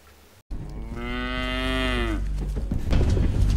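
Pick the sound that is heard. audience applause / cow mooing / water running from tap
cow mooing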